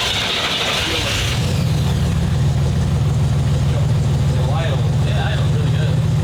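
Car engine idling roughly in a garage, a steady low rumble with uneven pulses that starts after a brief burst of higher noise; people talk over it.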